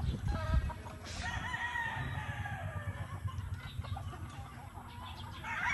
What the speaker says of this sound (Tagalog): Kaya puro manok, tinan mo.